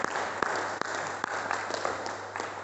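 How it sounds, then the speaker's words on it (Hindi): Light clapping from a small group at a Hanuman asana yoga session, a brief patter of claps that sounds fairly faint and distant. "तालियां हो जाएं।"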